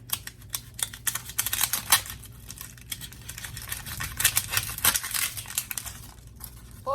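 A knife cutting the ends off a yellow onion on a board, with a string of crisp, close crunching and slicing clicks, busier toward the middle and end.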